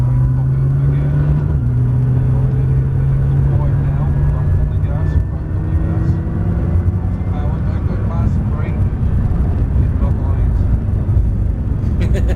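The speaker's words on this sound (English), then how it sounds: "The only real character it has in the sound is a V6 whistle." Steady, loud V6 car engine drone from inside the cabin on a test track, with a thin rising V6 whistle riding over the engine note as it revs.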